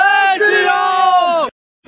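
A crowd at a large Durga Puja pandal during Navratri raises a loud, sustained chorus of voices, one held cheer that carries for about a second and a half before cutting off abruptly into silence.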